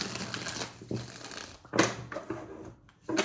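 Tarot cards being shuffled by hand in a quiet room, a run of crisp papery riffles and soft flutters in uneven bursts, close and fairly quiet, no voices.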